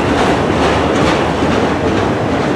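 A Norfolk Southern freight train of autorack cars rolls past close by in Spartanburg, South Carolina, a dense, loud, steady rumble with clattering wheels and faint squeals, unbroken throughout.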